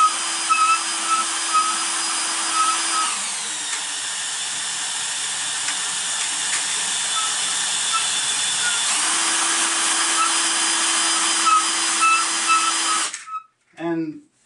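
Wire coil for chain maille being spun on a small motorized winder, a steady close whine with a pitch shift partway through, running continuously before stopping abruptly with a brief clatter.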